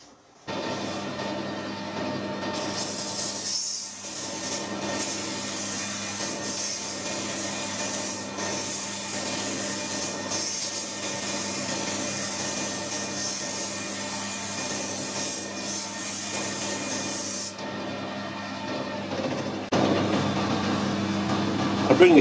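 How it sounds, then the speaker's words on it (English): Emery tape held against a workpiece spinning on a lathe, giving a steady hissing, rubbing abrasion over the motor's hum for about fifteen seconds, with the lathe humming alone before and after. "we'll start the lathe up and have a little bit of polish at that"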